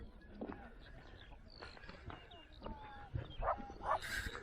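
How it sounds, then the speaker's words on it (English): Dogs bark and yip in the distance at a coastal nature reserve, faint scattered calls over wind and outdoor background, with birds faintly present. "More dogs."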